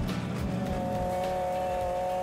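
A World Rally car on a tarmac stage of the Donegal International Rally, its engine holding a steady high drone with a tonal whine and faint tire noise, heard from a moderate distance with no voices.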